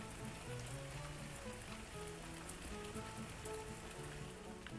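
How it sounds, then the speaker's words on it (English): Steady, quiet rain patters without a break in the Civil War strategy game Grand Tactician: The Civil War, with soft low music tones underneath. "It is raining."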